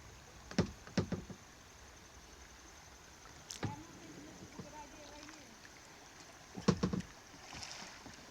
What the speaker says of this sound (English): we're gonna have to paddle our way across it